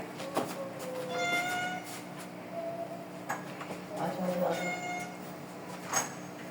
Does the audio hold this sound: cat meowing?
yes